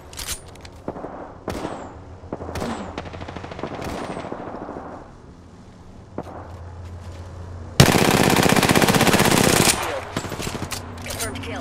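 Automatic weapon fire in the battle royale game Apex Legends: scattered loud single shots and short bursts early on, then a sustained dense stream of rapid gunfire, with mechanical game effects throughout and no talk.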